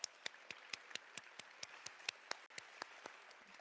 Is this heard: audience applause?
yes